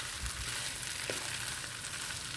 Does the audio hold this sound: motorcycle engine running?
no